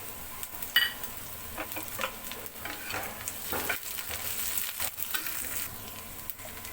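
Garlic and green chili fry and sizzle in hot oil for paneer bhurji, a steady crackling hiss with a few stirring scrapes, close and fairly loud with no voices.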